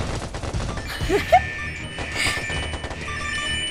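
Missile explosions and gunfire from the mobile game Super Slug, a dense rattle of rapid shots and bursts running throughout, with a couple of sharp tonal blips and a voice briefly heard underneath.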